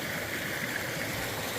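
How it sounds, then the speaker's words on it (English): A small creek flows near a ghost town campsite, giving a steady, even rushing and trickling of water, close and continuous with no voices. "Nice little creek over here"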